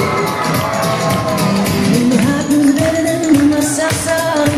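Party guests at a bat mitzvah celebration cheer and shout loudly for the guest of honor, a dense, sustained crowd roar of whoops and children's shouts with music carrying underneath throughout.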